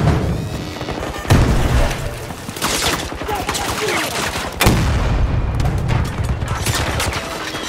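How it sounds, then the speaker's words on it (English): A grenade detonates during a Battlefield 2042 firefight, sharp heavy booms punctuating constant close automatic gunfire and battle noise, loud and dense from start to finish. "Grenade!"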